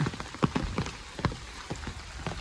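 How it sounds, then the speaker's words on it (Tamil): Rain falling intermittently over a paddy field, with scattered drops striking close by in an irregular patter over a soft, steady wash. "மழையெண்டா விட்டு விட்டு பெய்யுது மக்களே"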